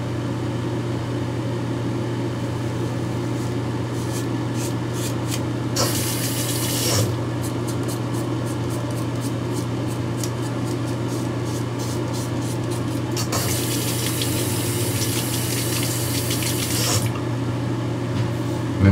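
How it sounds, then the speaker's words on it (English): Hot tap water runs steadily into a sink while a razor is rinsed, a constant close hiss broken by brief louder bursts of spray as the flow is disturbed. "I always rinse my razors under hot water, and then I rinse under hot water when I'm shaving"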